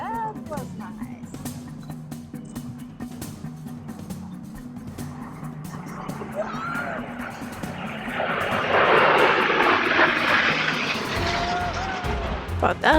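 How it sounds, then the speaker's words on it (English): Airplanes at an airshow over Sardinia roar overhead, building to a loud, broad rush in the second half, heard from a boat dock with people talking nearby. "You can feel the vibrations from the planes, and it was so loud"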